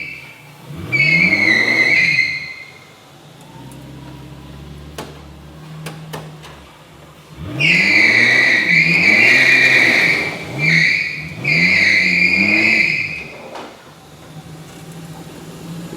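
A V12 twin-turbo Toyota BJ40 Land Cruiser engine revs hard with loud, high-pitched squeal from its old original tyres in long burnout bursts, dropping to idle between them.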